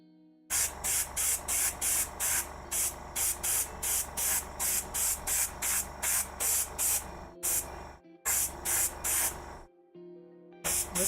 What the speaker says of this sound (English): I have my airbrush whacked up to 55 psi right now.